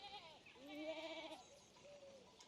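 Sheep in the video game Pentiment give a few soft, wavering bleats, faint and close, over quiet background.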